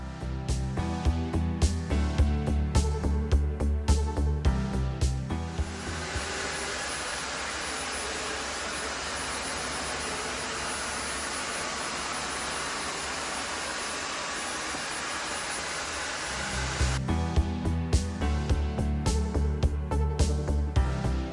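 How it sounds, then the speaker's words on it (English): Two cordless wet vacuum mops, a Narwal S20 Pro and a Tineco Floor One S7, run at full power across a floor with stuck-on dirt, giving a steady roaring motor whine framed by rhythmic music at the start and end. "I ran both at full power to see which could clean the stuck-on dirt from the floor in the fewest passes."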